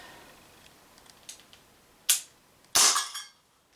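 TT-33 CO2 airsoft pistol firing 6mm BBs, two sharp, close cracks with a gas hiss after the second, preceded by faint small clicks.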